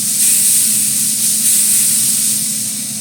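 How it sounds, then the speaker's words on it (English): Water misted from a spray bottle onto meat inside a smoker during a pellet versus reverse-flow stick burner cook, a steady airy hiss lasting the whole stretch, close and fairly loud with no talking. "So I'm gonna put some water on them from the smoker spray bottle."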